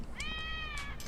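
A white cat meows in the video game Lost Judgment, a single drawn-out, clear meow with a slight rise and fall, close and distinct over a low steady game background.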